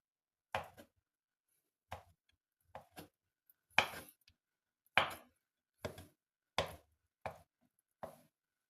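A knife cuts a boiled egg into small pieces on a cutting board, about nine sharp, close taps in an uneven rhythm with quiet gaps between them.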